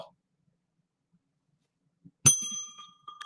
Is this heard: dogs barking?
no